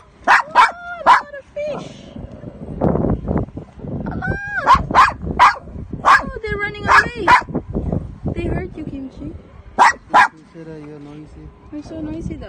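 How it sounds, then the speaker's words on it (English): A dog barks at fish in a park pond, giving repeated short, loud yips and barks in bursts, with people talking between them. "Barking at the fishies."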